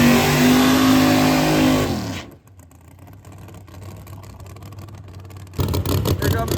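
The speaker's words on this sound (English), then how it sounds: "Here comes Brian and fat stacks for the first pass of Saturday, second of the weekend for the car." A no-prep drag race car launches and accelerates down the strip, a loud broadband engine roar for about two seconds that drops away abruptly, leaving quieter crowd and track ambience before noise swells again near the end.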